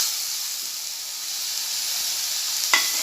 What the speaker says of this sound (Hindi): अब मैं इसमें टमाटर डालूंगी